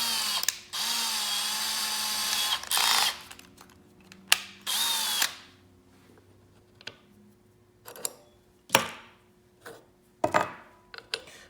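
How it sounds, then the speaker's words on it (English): A power drill runs a spring-loaded, self-centering hinge drill bit in several loud bursts of a few seconds each. Short clicks and knocks fill the pauses between the bursts. "the beauty of a hinge bit is that it has this collar that's spring-loaded so that it will self-center and maintain that center as you drill."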